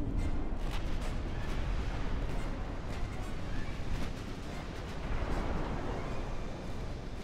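Naval gunfire in the warship game Ultimate Admiral Dreadnoughts: a faint, continuous rumble of distant artillery with scattered sharp reports, heard from far off.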